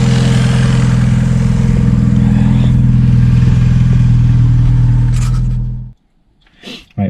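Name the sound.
Fiat Seicento Sporting engine idling after cam timing fix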